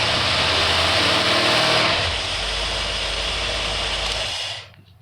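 A car engine with a Holley four-corner-idle carburetor running loud on a dyno, a dense roar that drops in pitch midway and then cuts off abruptly near the end.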